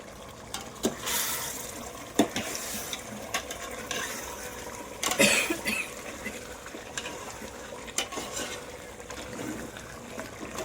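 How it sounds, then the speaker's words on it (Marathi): Chicken boiling in a pot for a home-cooked Marathi meal, a steady bubbling and watery churn with scattered louder splashes and clinks at a moderate, close level; no talk. "आता छान उकळी बघतो"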